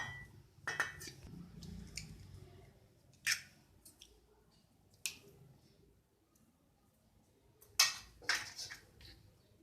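Eggs cracked and dropped into a bowl of chopped chillies and coriander for an egg paratha and omelette, heard as a few sharp, close taps and wet splats separated by quiet pauses.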